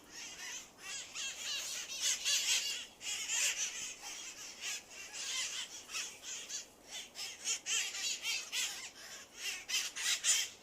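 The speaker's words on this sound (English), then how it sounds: "bunch of parrots eating up in the tree." A flock of parrots feeding in a tree in San Francisco, squawking in dense overlapping bursts, harsh shrill calls coming thick and fast throughout at a moderate distance.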